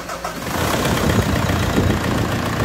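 A Mitsubishi L200 pickup truck engine, freshly rebuilt, rumbles at a steady idle, close and loud, with a low knocking chug throughout and no voices.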